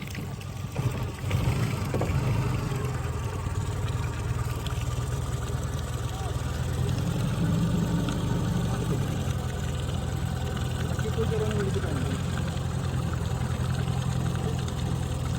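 A fishing boat's engine runs steadily out at sea, a low continuous rumble with water wash, under occasional talk nearby.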